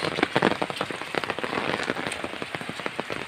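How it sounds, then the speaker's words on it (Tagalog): Steady rain pattering on a surface at a rural farm in the Philippine countryside, a dense, continuous patter of drops close by with no voices. "Ulan is life."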